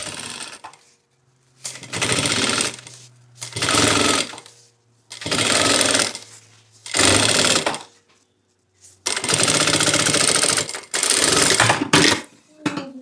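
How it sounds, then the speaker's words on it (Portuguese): Sewing machine stitching a zipper onto fabric panels, running in six loud bursts of rapid mechanical chatter separated by short pauses, close and alone with no talking. "Vou costurar esse zíper, um lado do zíper em uma parte e o outro lado na outra parte"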